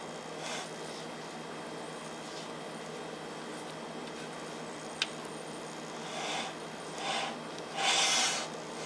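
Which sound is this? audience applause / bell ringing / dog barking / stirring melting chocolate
stirring melting chocolate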